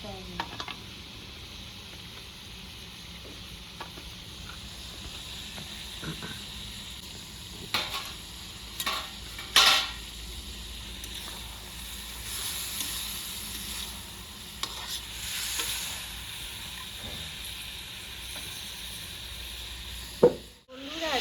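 Oil sizzles steadily in a kadai while cooking Dhaba-style kadai chicken village style, a continuous close hiss broken by occasional sharp stirring clinks and knocks.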